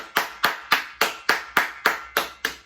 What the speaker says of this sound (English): Clap it up for you, boys. Clap it up.